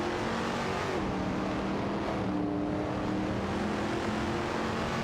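In a video game race, a Porsche 911 RS 2.7 and a Ford Mustang Boss 429 roar as a continuous, dense engine drone that stays loud and steady throughout.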